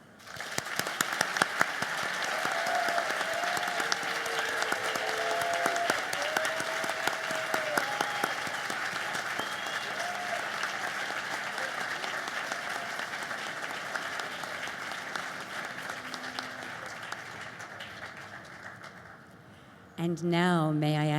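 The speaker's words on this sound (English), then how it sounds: "Please join me in your applause." An audience at a college commencement ceremony on Long Island applauds steadily for about twenty seconds. The clapping is dense and sustained, and a voice speaks over the end of it.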